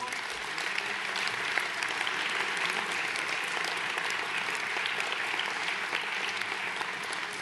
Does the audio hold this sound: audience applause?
yes